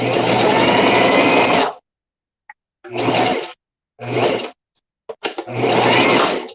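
Close, loud sewing machine stitching a small hole in bursts: a long run, then three shorter runs separated by silences and faint clicks.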